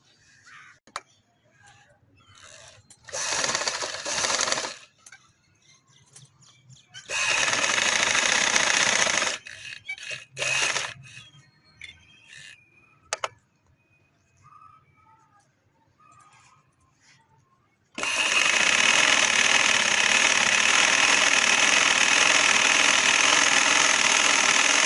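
A sewing machine stitches a short belted frock dress with a collar neck, running in several short bursts of steady whirring separated by pauses, then in one long, loud, continuous run to the end.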